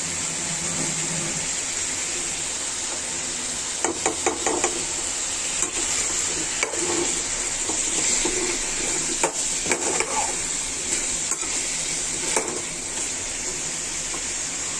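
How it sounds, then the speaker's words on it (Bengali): Potatoes frying in oil for a village-style chicken curry, a constant hiss with scattered clinks and scrapes as they are stirred, close and with no speech. "আলুটা 5 মিনিট ভাজা হচ্ছে একসাথে"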